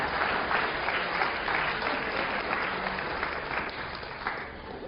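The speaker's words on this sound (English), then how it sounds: "All right, so can you get a round of applause for Li Xing Chang?" A lecture audience in a Yale game theory class breaks into strong, sustained applause for a student's birthday, a dense crackle of many hands that tapers slightly toward the end.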